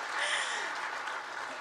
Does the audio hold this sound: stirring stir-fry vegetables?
no